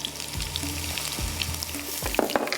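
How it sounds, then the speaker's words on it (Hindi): Steady sizzling of garlic, cumin and curry leaves frying in hot oil, with a few clinks and stirring scrapes of a utensil against the pan. "इसके अंदर लहसुन, ज़ीरा, कड़ी पत्ते डालेंगे, इसको भी फ्राई करते हैं।"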